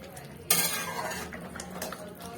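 Fried lentil fritters (bora) being stirred in a pan with mustard oil for bora posto, with a sudden clatter of a spoon against the pan followed by scraping and a soft simmer.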